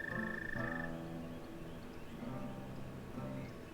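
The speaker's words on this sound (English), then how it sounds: "I don't know which toad sounds are in game now and which are the real toads." Toads croak in a chorus, either from the game Hard Lad or real ones nearby, with faint, repeated rattling calls in uneven bursts and no speech.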